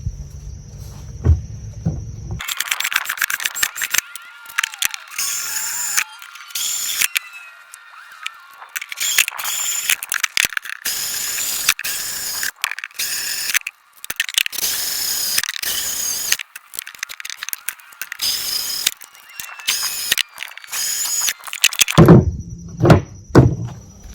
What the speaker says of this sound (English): I can flip the lid over and finish the job with the hole saw